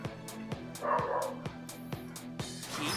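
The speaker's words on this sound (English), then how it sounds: "And my dog's barking." A dog barks indoors in a steady series of sharp, evenly spaced barks, fairly close and prominent.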